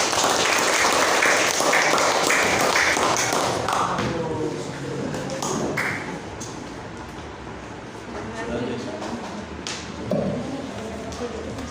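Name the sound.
audience applause at a school celebration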